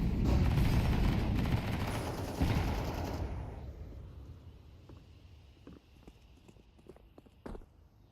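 A flashbang grenade thrown in CS2, a loud dense burst and ringing wash that fades over a few seconds, followed by scattered sharp clicks and gunfire-like taps in the distance.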